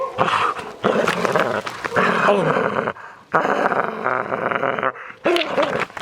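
A Belgian Malinois growls and snarls fiercely during attack training, with loud, sustained guttural rumbles broken by brief pauses, while a person gives short commands.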